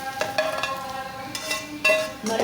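A spatula scrapes and stirs eggs in a pan while fried rice is cooked, with the stove just switched off. Irregular scraping strokes sound close and clear.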